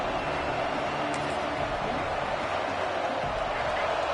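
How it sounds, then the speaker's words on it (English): A large crowd roars loudly and continuously, a dense, steady wall of noise that fills the space without letting up. "Listen to this crowd just shaking the girders of this place, trying to help their defense."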